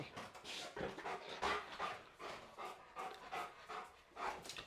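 A large, long-backed dog pants steadily in quick breathy rhythm with occasional soft whimpers, close by and fairly quiet, with no talking over it.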